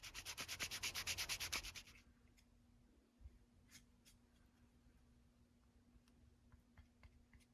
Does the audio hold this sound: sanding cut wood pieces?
yes